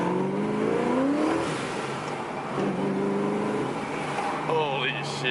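A 2004 Ford Mustang Mach 1 with a ProCharger supercharger revs hard through rising and falling engine sweeps, loud and close, with the supercharger's whine climbing near the end.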